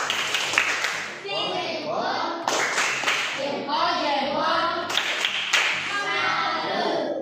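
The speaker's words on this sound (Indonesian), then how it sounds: "Tepuk salut." A classroom of students performs a rhythmic 'tepuk salut' clap in three patterned bursts, with children's voices chanting along between them.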